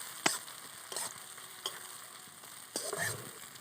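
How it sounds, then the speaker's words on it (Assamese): Cumin seeds and chillies fry in a pan as the base for a duck curry. A quiet steady sizzle runs throughout, broken by a few sharp scrapes and clinks of stirring. "জিৰাখিনি কেঁচা গোন্ধ নোযোৱালৈকে অকণমান ভাজিম"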